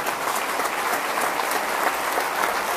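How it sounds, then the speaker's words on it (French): A large basketball crowd at a women's league game in Charnay gives a minute of applause in tribute, producing loud, continuous, evenly sustained clapping that fills the gym without any speech. "qu'on fasse une minute d'applaudissement en la mémoire de Boris Bassett"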